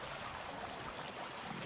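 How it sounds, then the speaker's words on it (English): Steady rushing of flowing water in the survival game Sons of the Forest, a continuous broadband wash of stream noise holding at an even, moderate level throughout with no breaks. "the water's pretty loud for me"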